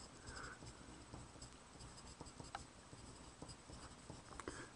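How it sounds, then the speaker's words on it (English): Pen or pencil writing out algebra equations, a steady close scratching with small taps and strokes continuing throughout, fairly quiet and alone. "if I write these down"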